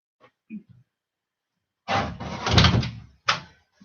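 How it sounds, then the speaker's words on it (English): An interior door being shut in a room used for a strength and power class: a few small clicks and rustles come first, then a long sliding scrape and a sharp closing knock. "I'm just going to close this door because it's glaring a bit."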